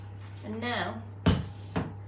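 Metal spoon knocking against a mixing bowl while making peanut butter cookies, two sharp clinks in quick succession after a brief murmur of voice, close and fairly quiet.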